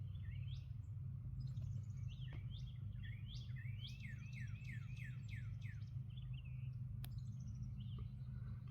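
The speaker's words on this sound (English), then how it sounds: "all you can hear is birds." Birds chirp and trill in a quiet corner of a Louisiana golf course, with several overlapping calls in quick runs, moderately distant over a steady low background hum.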